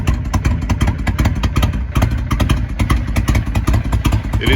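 A 2005 Honda VTX1300R liquid-cooled motorcycle engine idling just after a cold start, a loud, close, lumpy throb with uneven rhythmic pulses and slight revving, no talk.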